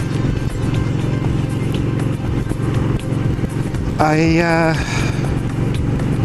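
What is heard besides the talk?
twin-cylinder motorcycle engine while riding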